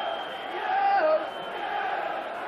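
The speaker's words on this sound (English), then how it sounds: "Orient fans trying to cheer their team home here" Leyton Orient fans cheer in the stadium during a 1995 football match away at Northampton Town. A broad, far-off crowd roar swells and fades beneath a commentator's voice.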